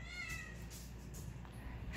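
A cat gives a few short, faint meows at close range, with light rustling in a quiet indoor space and no talking.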